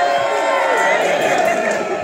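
Large outdoor festival crowd at Egasi Fest 2024 in Burgas, shouting and cheering in a dense, sustained roar of many voices, loud and continuous throughout.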